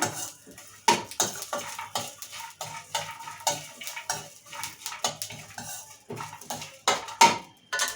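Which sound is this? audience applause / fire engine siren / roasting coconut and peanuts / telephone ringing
roasting coconut and peanuts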